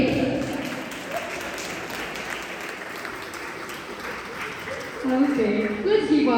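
Guests at a gala exhibition celebration applaud distinguished guests, steady mid-distance clapping through the room, with voices of people talking rising near the end.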